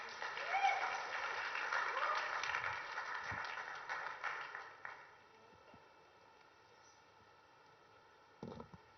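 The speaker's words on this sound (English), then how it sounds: "Can we have a round of applause, please?" Audience applause at the India Today Conclave in Mumbai, 2023, a dense wash of clapping that holds for about five seconds, then drops away to a quiet room, with a brief bump of sound near the end.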